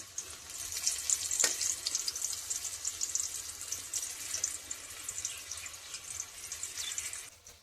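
Food cooks in a pan with a continuous hissing sizzle, close and moderately loud, and a stirring clink early on.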